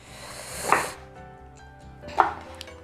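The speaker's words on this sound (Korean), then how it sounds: "이렇게 3등분해서 이렇게 먹기 좋은 크기로 이렇게 자르면" A knife chops a thin eggplant into bite-sized pieces, giving two distinct, close chopping knocks spaced more than a second apart, with no talking.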